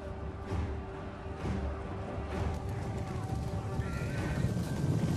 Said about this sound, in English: now there's some horse coming